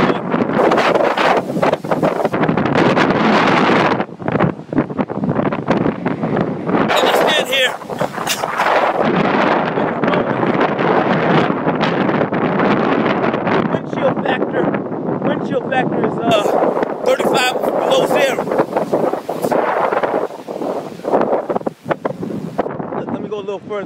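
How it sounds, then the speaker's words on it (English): Stormy wind buffets the microphone at the waterside, with surging waves beneath the roar, steady and loud throughout; someone talks excitedly over the gusts. "We out here and the storm is raging. I'm at the water. Look at it. Look at these waves."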